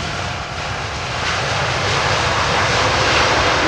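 An European Cargo Airbus A340-600 jet arriving at London Heathrow Airport roars loud and close, a broad steady rushing engine noise that swells gradually as the aircraft passes.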